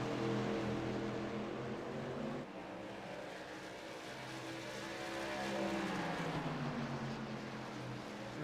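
Race cars, including the number 23 car, roaring around a track in a Gander Mountain Trucks series race in Iowa: a continuous engine drone with pitch rising and falling as cars pass, fairly distant and steady throughout.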